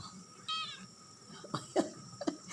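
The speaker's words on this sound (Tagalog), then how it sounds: "tingnan mo yung pusa." A cat meows a few times in a kitchen where a vegetable dish is being cooked, short high cries and small throaty sounds spaced across a quiet, slightly hissy background with no talk.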